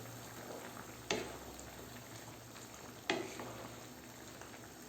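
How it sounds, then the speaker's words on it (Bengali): Beef kala bhuna simmers quietly in a pot with a soft bubbling hiss, broken by two distinct scraping clunks of a spoon stirring the meat, with no talking. "তো এভাবে কিছুক্ষণ পর পর মাংসটা নেড়ে দিতে হবে"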